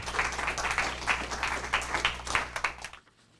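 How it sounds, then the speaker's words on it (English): Audience applause for an invited speaker at a lunchtime history talk, a dense, steady patter of many hands that swells and lingers for about three seconds before cutting off into near silence. "let's give Paul a big round of applause and welcome him here today"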